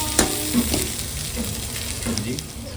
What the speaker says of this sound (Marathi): पप्पा आता कांदा भाजून घेत आहेत